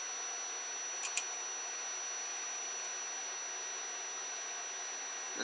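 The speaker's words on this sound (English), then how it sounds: "So as it's loading the filament," A FLSUN 3D printer loads filament with a steady high-pitched electronic whine and a constant hum of motors and fans, broken by a couple of faint ticks near the start.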